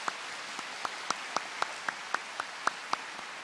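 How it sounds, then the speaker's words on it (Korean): Slow, sparse, evenly spaced claps during a Sunday evening church mission service, about a dozen distinct hand claps in a steady rhythm, fairly quiet against a hushed background. "우리 한번 감사의 박수를 하겠습니다"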